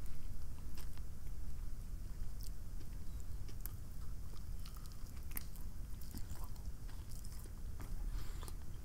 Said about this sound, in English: Last couple bites here.